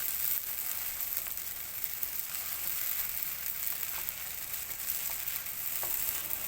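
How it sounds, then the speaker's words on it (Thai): Glass noodles stir-fried in a pan, a steady, even sizzle with light scraping of stirring, close and continuous throughout without talk. "ผัดวุ้นเส้นให้นุ่มๆก่อนค่ะ"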